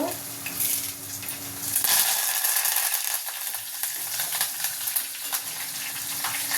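Dried red chillies, crushed garlic and a sprig of curry leaves sizzle and crackle in hot oil with mustard and cumin seeds, a steady, fairly loud frying hiss with occasional stirring, no talk.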